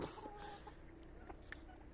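A rooster clucks among farmyard fowl, soft and somewhat distant, with several short, scattered clucks over a low background hum.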